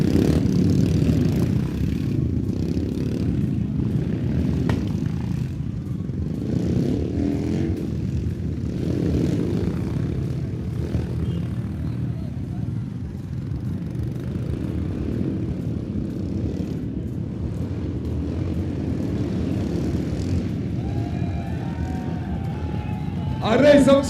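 Motorcycles at the Royal Enfield Rider Mania 2022 event roar through an 8-lap qualifying race in a steady, loud engine drone that continues throughout, with voices heard over it.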